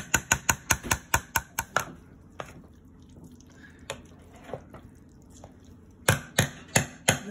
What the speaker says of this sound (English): Mixing it, make sure it's well mixed.